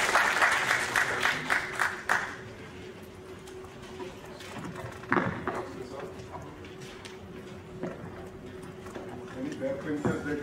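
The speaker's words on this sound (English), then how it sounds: "Let's give a big round of applause for Dr." A lecture audience applauding a speaker on sustainable development and water goals, a few seconds of clapping that thins out, followed by scattered claps and shuffling in a hall.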